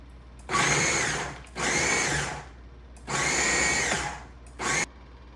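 Food processor pulsing basil leaves, walnuts and garlic cloves for pesto: four loud motor bursts with short pauses between, the last one brief, with no talk.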